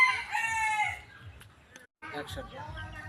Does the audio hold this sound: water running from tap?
no